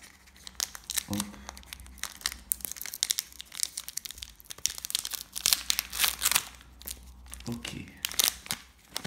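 Foil wrapper of a combat-style trading card booster pack being torn and crinkled open up close, bursts of sharp crackling and tearing with brief quiet gaps, while a person speaks a few short words.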